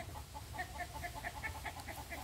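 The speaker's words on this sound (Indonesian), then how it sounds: "Ini ayam mau disut Mas Bro, berisik Mas Bro." Chickens near a Speck full custom Minion Gen2 tactical PCP air rifle cluck noisily in a fast, steady, repeated pattern over a low background rumble, with no talk.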